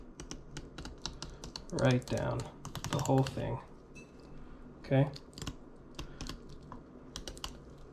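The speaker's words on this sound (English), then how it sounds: "You can hear the knife clicking." Fillet knife ticking against the bones and rib cage of a fluke while filleting it, several small sharp clicks scattered through the clip, close and fairly faint, with someone talking over them.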